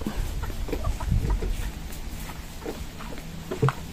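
Chickens cluck in short, scattered bursts while being caught on a home yard, with scuffling movement and footsteps around them.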